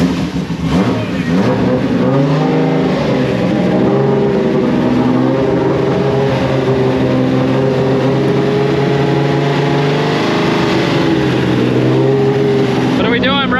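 A Formula Drift Nissan 370Z engine cranks and fires for its first start, then holds a loud, steady idle with harmonic drone and small rev fluctuations close by, while people talk over it throughout.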